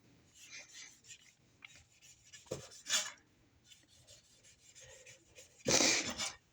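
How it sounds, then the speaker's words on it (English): A knife trimming the white pith and skin off fresh fruit makes quiet, intermittent scraping strokes, with a louder rasping pass near the end. "You're going to use your knife to peel off the white"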